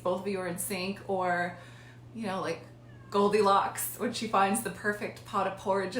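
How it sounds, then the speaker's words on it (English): A cat meows outside a door, trying to get in, heard as a few brief cries mixed under continuous close talking by a speaker. "That is my cat outside of the door trying to get in here."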